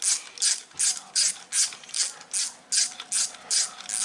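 A ratchet wrench undoing bolts at the bottom stabiliser of a classic Mini race car engine, about a dozen quick rhythmic clicking bursts in steady succession, close and clear.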